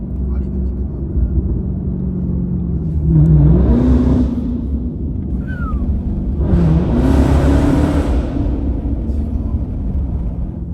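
A Dodge Charger Hellcat on its stock exhaust rumbles at idle, then revs twice in rising, roaring pulls that settle back to a deep burble.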